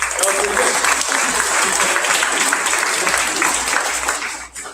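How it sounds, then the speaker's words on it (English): Loud, dense applause from a summer school graduation audience for police dog Canine Maverick, sustained clapping close by that tapers off at the end, with voices mixed in. "Let's give him a big round of applause."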